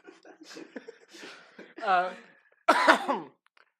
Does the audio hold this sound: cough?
yes